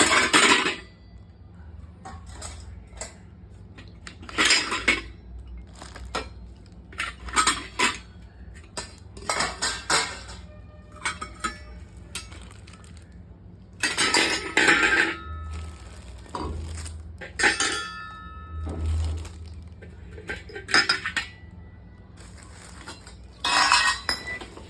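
A large, heavy brass karai cooking pot is handled with repeated sharp metallic clanks and knocks in irregular bursts, close and fairly loud against a quiet background, with no speech.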